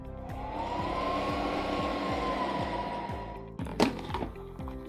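A Wonderchef Chef Magic machine kneads tortilla dough with a steady motor whine and a repeating rhythmic churning pulse that stays level. It is cut short near the end by a couple of thuds.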